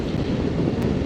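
Husqvarna Norden 901 motorcycle engine under throttle on a winter ride near Hamlin Beach State Park, a steady, dense roar mixed with heavy wind rush, continuous and close with no pauses.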